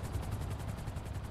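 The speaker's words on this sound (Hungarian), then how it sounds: "Ez mi a faszom ez a helikopter?" Helicopter in the GTA V video game flying overhead, a steady, fairly faint rotor chop with a rapid rhythmic thump throughout.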